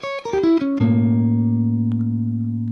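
A clean guitar picks a quick rising diminished arpeggio of single notes, then lets the final notes ring out and slowly decay.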